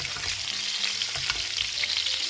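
Sirloin steak frying in butter in a de Buyer iron pan while being basted, a steady loud sizzle with faint low scraping and spooning noises underneath, continuous and close, no voices.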